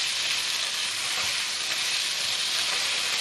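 Sugar and mushroom seasoning stir-fried in a pan for a vegan bamboo shoot noodle soup give off a loud, continuous, even sizzle with no voices.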